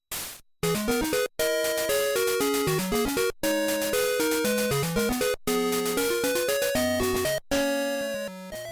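Pokémon Gold, Silver and Crystal chiptune music plays in several short bursts separated by brief silences, each a busy run of bright square-wave notes with bass lines, ending in a noisier, denser passage.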